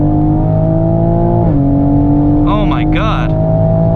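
A 2020 Toyota Supra pulls hard from inside the cabin, its engine a steady rising drone that drops sharply at a gear change before climbing again, while an occupant briefly exclaims.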